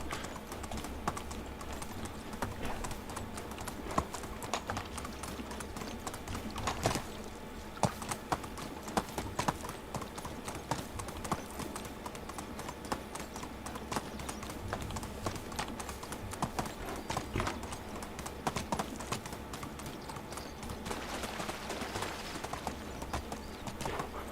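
Horse hooves clip-clop steadily in Medieval Dynasty as the rider travels, a continuous rhythmic trot under game ambience with keyboard typing clicks scattered throughout and no speech.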